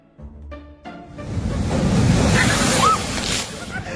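Sea waves surging and crashing on the shore, a loud rolling wash of surf with wind noise building after a brief tonal sound at the start.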